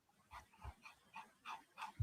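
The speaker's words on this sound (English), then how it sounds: "You guys hear the puppy?" A small 8-month-old pug puppy named Cassie growls and yips in short rhythmic bursts while tugging on a toy, about six quick vocal pulses, close and fairly faint.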